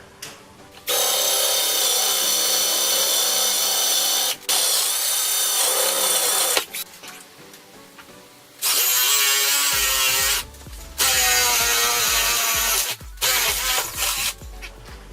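A power drill with a worn 5/8 inch bit bores holes for mounting an above-range microwave, loud high whining bursts of several seconds each separated by short pauses, the last runs choppier and stuttering.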